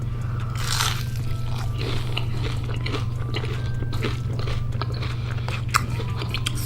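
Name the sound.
biting and chewing a thick-cut battered onion ring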